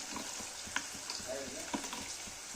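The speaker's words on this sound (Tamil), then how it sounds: "அதை அப்படியே எண்ணெயில் போட்டு பொரிச்சு எடுக்கிறது" Masala-coated kidney pieces deep-frying in hot oil for kidney pakoda, a steady, fairly faint bubbling sizzle with a few small clicks, close by and without talk.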